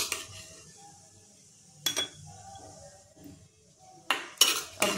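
Spicy Kolhapuri sabudana khichdi being spooned from the pan onto a serving dish, with a few sharp bursts of metal-on-plate clinks and scrapes separated by quiet stretches.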